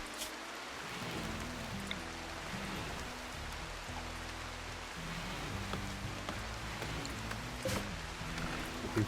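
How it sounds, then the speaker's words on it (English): Steady rain falls in the RimWorld video game, a dense, even hiss of drops lasting throughout, with a low tonal hum of game music running underneath. "Oh, it's raining."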